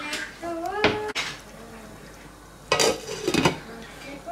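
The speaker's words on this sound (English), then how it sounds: "So I'm going to put the lid on that." A metal lid is set onto a pot of pho broth, giving a couple of sharp clanks and scrapes near the mic, with a voice talking briefly between them.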